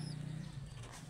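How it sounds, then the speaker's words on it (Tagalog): Pet pigeons coo softly in a low, throaty murmur, faint and close, with a slight chirp above. "Yan po ang kalapati ko po."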